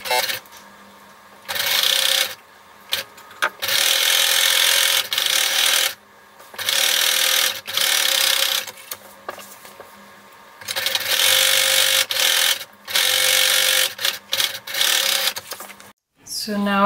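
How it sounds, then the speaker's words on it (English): A sewing machine stitches the seams of swim trunks in repeated bursts of steady whirring with short pauses between runs, loud and close, while a person talks between them. "Now you're going to sew both of these seams with a 3/8 inch seam allowance"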